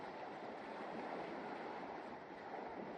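Water waves in a video game, a steady soft wash of surf-like noise with no distinct breaks, moderately quiet and continuous, no voices.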